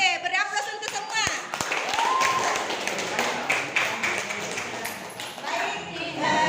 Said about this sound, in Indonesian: beri aplaus untuk semua